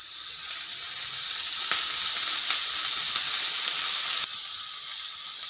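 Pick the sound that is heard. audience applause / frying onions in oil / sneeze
frying onions in oil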